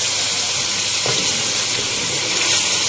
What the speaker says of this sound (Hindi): बहुत अच्छी तरह से इसको भूनना है हमें हाई फ्लेम के ऊपर।